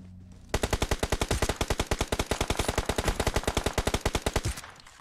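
Rapid, evenly spaced automatic gunfire in PUBG Mobile, one loud sustained burst of roughly forty shots that begins abruptly and stops near the end, close and clear with no talk.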